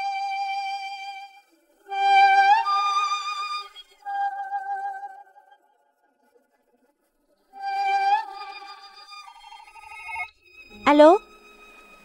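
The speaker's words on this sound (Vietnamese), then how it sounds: "Ba ơi có điện thoại" An old-style telephone bell rings in repeated bursts with silent pauses between them, clear and fairly close, before a brief other sound near the end.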